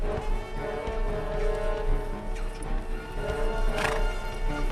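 Several horses gallop and neigh in a dramatised scene of a medieval Mongol family fleeing on horseback, hooves drumming steadily throughout with a loud whinny near the end, no voices.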